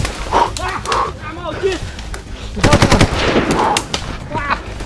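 Repeated gunshots crack out in bursts, some rapid like automatic fire, on a tense trail, loud and near, with excited voices talking between and over the shots.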